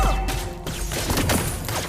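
Layla's golden-bullet gunfire in the Mobile Legends video game, a dense burst of rapid shots layered over busy game effects and music, loud and continuous throughout.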